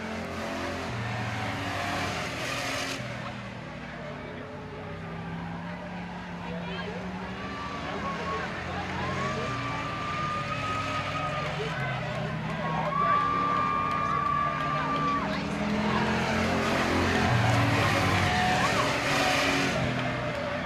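Race cars tear around a track in a tight three-car battle for the finish, engines droning and revving as they pass, with an announcer talking excitedly over the racing throughout.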